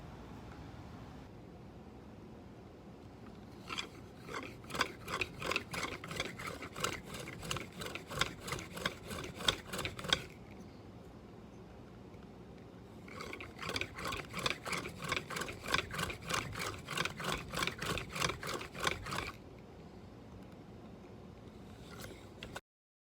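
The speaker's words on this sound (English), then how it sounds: "This causes the shaft to rotate, driving the drill bit." A medieval-style pump drill bores into a small die, giving two long bursts of rapid, even clicking whirs that alternate direction with each stroke, close and fairly quiet, separated by a short pause.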